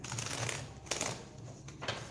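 A tarot card deck is shuffled during a live reading, giving soft papery riffles and flutters with a few brighter bursts of cards snapping together, close and fairly quiet.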